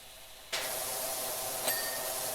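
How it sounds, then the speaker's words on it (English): A pressure washer jet bursts on suddenly in the PowerWash Simulator video game and keeps spraying as a steady, close hiss, with a brief clink partway through. "Look out, Atlas, I'm spraying you with fake water in your mouth."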